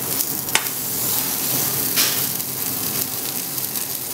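Lobster sizzles loudly and steadily in a frying pan, a constant bright hiss with a couple of short scrapes and bumps as the piece is turned, no voices.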